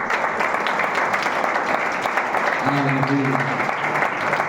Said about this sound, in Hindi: जोर से ताली बजा के प्रभु को धन्यवाद